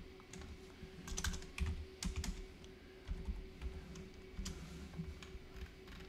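Steady typing on a computer keyboard, quiet and close, with uneven clusters of key clicks continuing throughout and no talking.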